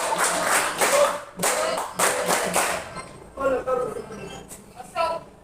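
Classroom of students clapping for themselves after a group game, a few short bursts of claps in the first three seconds, then the teacher talking.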